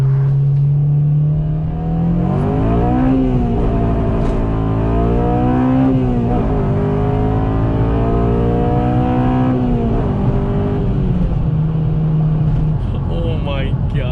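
A 2007 Honda Civic Si with 200k miles accelerates hard in first gear, its engine revving loud and rising in pitch toward 7,000 rpm before easing off and climbing again. The engine roar is close and continuous throughout.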